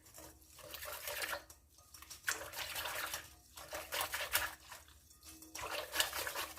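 Water and milk poured into a glass while making brioche, a quiet, uneven trickling and splashing that comes in several short bursts.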